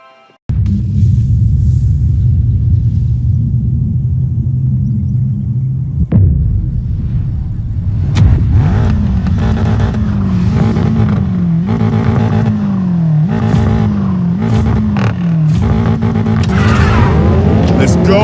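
An off-road race in Need for Speed Payback with a BMW X6 M: a loud, steady engine roar that rises and falls in pitch as the vehicle revs and shifts, with a sharp knock near the middle.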